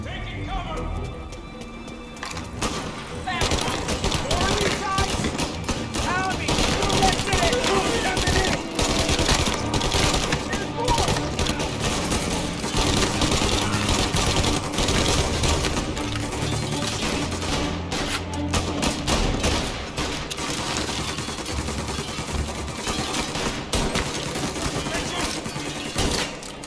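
Gunfire in the video game Mafia: Definitive Edition, dense sustained volleys of shots and rattling automatic fire that run almost without pause, loud and busy with voices mixed in.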